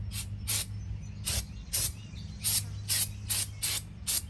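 Brake cleaner sprayed onto new front brake pads of a 2008 Jeep Wrangler JK, heard as about eight short, sharp hissing bursts at a fairly steady pace over a low garage hum.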